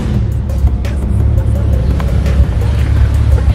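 A car spinning a donut at a street spinning meet in Wynberg, its engine droning loud and steady throughout with a low rumble and faint background voices.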